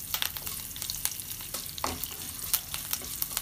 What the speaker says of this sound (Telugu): ఒక నిమిషం వేగుకుందాం